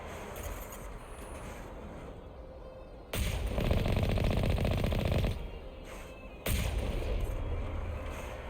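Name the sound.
enemy gunfire in the video game Mass Effect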